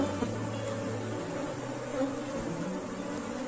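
Honeybee swarm in a hive box making a dense, continuous buzzing hum, close and steady, with a fuller low drone at the start that eases slightly afterward.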